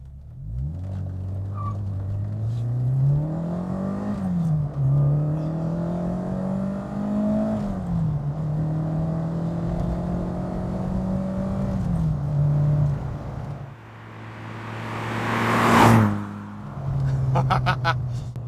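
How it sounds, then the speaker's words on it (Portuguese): A Fiat Strada 130 TC Abarth's Lampredi twin-cam engine revs repeatedly, pitch climbing and dropping through several throttle blips, close and loud, with a sharp louder burst near the end before settling to idle. "O Lampred Twin Cam, ele realmente mostra serviço quando você acelera até o limite."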